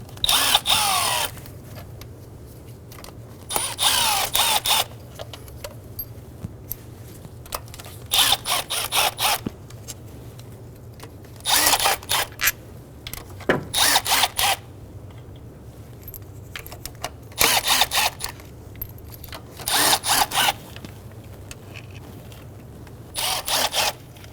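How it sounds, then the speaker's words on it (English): A power tool loosening and removing valve cover bolts on a 2007-2011 Toyota Camry 2.4L four-cylinder engine, in short repeated whirring bursts separated by quiet pauses and small metallic clinks. "Once you have all the bolts loose, go around and remove them all."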